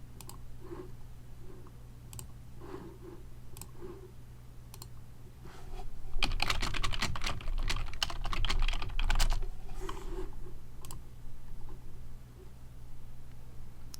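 Rapid clicking of a computer keyboard, with a dense burst of fast keystrokes in the middle, heard over a low steady hum.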